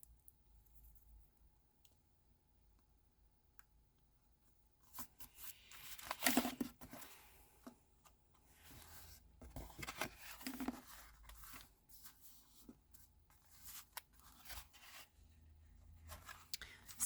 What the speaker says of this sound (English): I'm going to cut it to size because it's quite a narrow